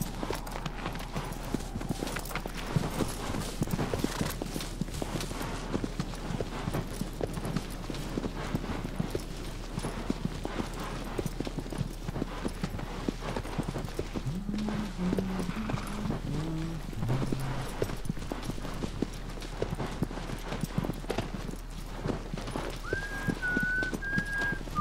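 Horse hooves clip-clop steadily in Shadow of the Colossus Remastered, a continuous soft rhythm of steps with the occasional whinny and faint bird calls and whistles in an open game landscape.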